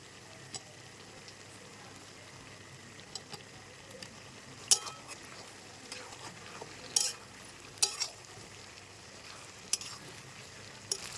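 Tomatoes and potatoes stirred into fried onions in a pan while cooking mutton: a quiet steady sizzle with occasional sharp clicks and scrapes of a spoon against the pan, spaced irregularly.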